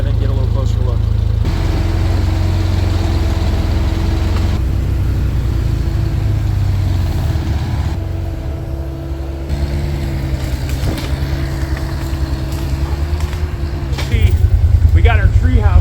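A car rolls slowly through a wooded backyard toward a camouflage-metal tree house, its engine a loud, steady low rumble that holds throughout, close and constant with only slight shifts in tone.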